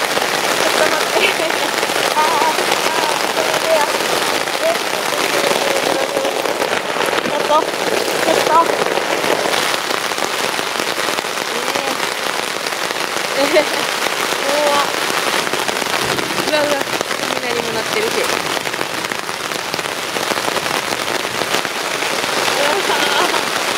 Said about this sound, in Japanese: 多分通り雨やろうけど